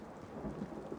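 In a video game, hard rain pours down with a low rumble of thunder underneath, a short, dense, fairly quiet wash of noise with no voices.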